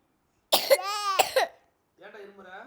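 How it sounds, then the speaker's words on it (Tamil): A child gives a loud, close cough lasting about a second, followed after a pause by a quieter, rougher cough or throat clearing. "ஏன்டா இருமுற?"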